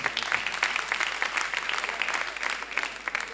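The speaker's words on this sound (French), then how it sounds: "Applaudissez d'abord pour vous-même." Audience applause at a Gabonese comedy show, dense and lively clapping from a crowd that stays steady and fairly close throughout, with no voices over it.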